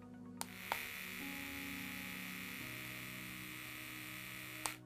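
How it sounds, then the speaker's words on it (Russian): A fake FOREO facial cleansing brush runs with a steady electric buzzing hum, close and constant for several seconds, with a few faint clicks at the start and end. "Вторая — это работает щеточка Fake."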